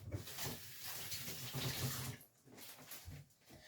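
Water runs steadily from a kitchen tap as large cherry tomatoes are rinsed, splashing close and continuous with brief dips in flow near the end.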